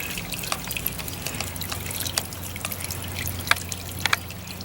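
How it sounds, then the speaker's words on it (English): Fuel being poured into the tank of a push lawnmower that will not start, heard as a soft, steady liquid trickle with occasional drips, close and quiet, with no talking. "We just drained the fuel out and put new fuel in it."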